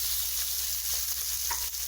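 Onions and half-cut chilies frying in hot oil for cumin chicken, giving a constant close hissing sizzle with a few soft pops under a low background hum.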